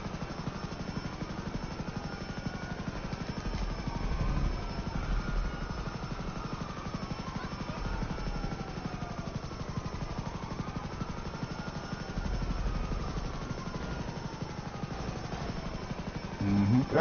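Helicopter in a video game, a steady rotor drone with repeated sweeping engine tones running throughout, fairly loud and constant.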